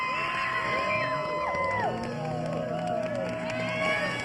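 Crowd cheering at the X Games Aspen 2023 men's ski big air, a steady wash of shouts, whoops and cheers from spectators at an outdoor mountain venue, sustained throughout with scattered voices rising above the roar.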